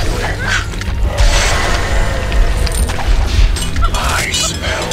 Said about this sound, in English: The Legion have destroyed a Hellborn tower.